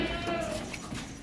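A desi goat, kept for Qurbani and being weighed at a market, gives a single short bleat up close, fading into low background noise.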